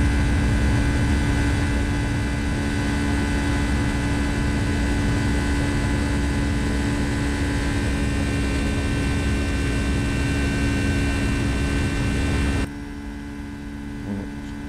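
An airliner in flight in the X-Plane 12 flight simulator: a steady, loud cockpit drone of engine hum with faint tonal whine. It drops abruptly to a quieter hum near the end, and no one speaks.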